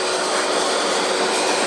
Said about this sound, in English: Going through the grinder process